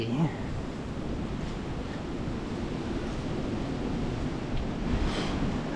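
Steady wind buffeting a microphone, a constant low roar with no pauses throughout, loud and close.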